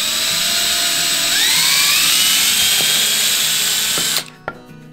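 A small high-speed drill bores holes into a deer skull, a loud, steady whine that rises slightly in pitch, then cuts off near the end, followed by a few light clicks.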